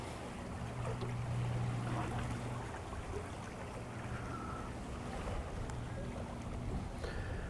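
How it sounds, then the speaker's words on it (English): Soft, steady wind noise rustles outdoors on a small fishing boat on the water, faint and continuous, with a low hum underneath and no speech. "There is a little bit of wind."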